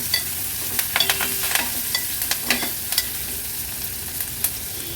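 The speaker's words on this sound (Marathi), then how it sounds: "आता कांदा तेलावर छान परतून घ्यायचा आहे आपल्याला" Onions sizzle in hot oil with a steady crackling hiss, broken by repeated scraping and stirring knocks from a spoon in the pan.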